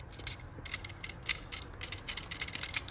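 Small brush scrubbing inside the head of an electric shaver, a quiet run of short, rapid bristly scratches and clicks in irregular bursts, close up with no talking.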